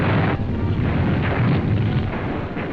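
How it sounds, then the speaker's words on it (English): Wartime artillery and explosive blasts in a 1944 battle, a continuous loud rumbling barrage of booms and thuds with no clear gaps, heard from an old newsreel soundtrack. "They blast with explosives at point-blank range."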